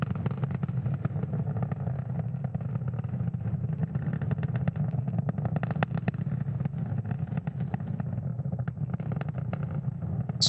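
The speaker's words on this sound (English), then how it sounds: "the M1D engines on the first stage are about to throttle down in preparation for max Q" SpaceX Falcon 9 first-stage Merlin 1D engines thunder during ascent toward max Q on a heavy Starlink launch, a steady, dense, low roar that holds without pause for the whole stretch.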